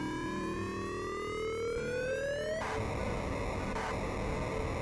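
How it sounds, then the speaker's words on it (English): Whirlpool sound effect from Ultima IV on the Apple II: a rising synthetic sweep of stacked tones glides upward, then cuts into harsh buzzing noise with a brief second burst, loud and alone. "that's the sound of a whirlpool"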